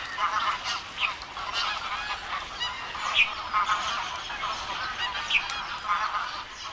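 Geese and other waterfowl that have migrated from Siberia, Mongolia and China honk repeatedly across a marsh, many overlapping calls from a large flock at moderate distance forming a continuous chorus.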